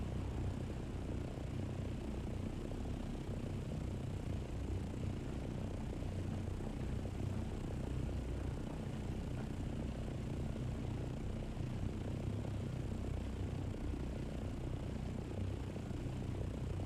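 An ornithopter hovers in a Funcom video game with a steady, dense mechanical whir and rumble that holds at a constant level throughout, with no talk.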